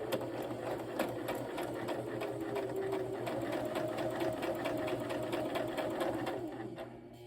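A Brother LX3817 sewing machine stitches through fabric in a steady, fast, continuous needle rattle with a motor hum underneath, close and even throughout.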